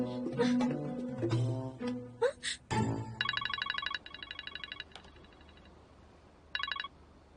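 A mobile phone ringtone chirps in repeated bursts of short electronic tones, alone and moderately loud after a brief stretch of other sound, pausing and then ringing again near the end.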